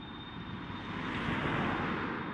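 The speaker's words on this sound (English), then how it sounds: "here we have the Dublin to JFK flight. Just getting ready to line up on runway 28 for departure." A jet airliner bound from Dublin for JFK lines up on runway 28, its engines giving a steady, broad roar at a moderate distance with a faint thin tone above, constant throughout.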